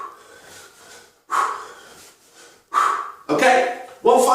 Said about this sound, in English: I'm forcefully exhaling the air as we swing up